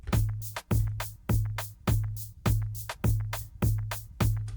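Afrobeat/reggaeton drum pattern built from a kick, shaker, snare, secondary snare and clap, looping steadily with a deep booming kick under crisp snare and clap hits, several bars, loud and close with no talk.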